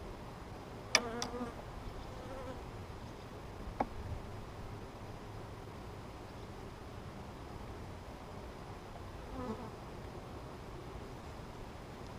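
Honey bees hum softly around an open hive during an inspection, a faint continuous buzz with a few brief, sharper clicks and knocks from handling the frames.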